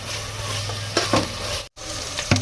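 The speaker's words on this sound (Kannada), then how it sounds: "ಉಳ್ಳಾಗಡ್ಡಿನೂ ಮೆತ್ತಗಾಗೋವರೆಗೂ ಬ್ರೌನ್ ಕಲರ್ ಬರೋವರೆಗೂ ಫ್ರೈ ಮಾಡ್ಕೊಳ್ಳೋಣ" Onions frying until soft and brown in a pan, a steady close sizzle with a couple of spatula scrapes and a brief cut near the end.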